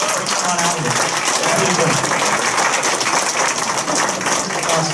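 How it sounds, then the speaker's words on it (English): Applause from a convention panel audience, dense continuous clapping filling the room at a steady level throughout, close and loud, with no break or fade. "I want to give a round of applause to you guys."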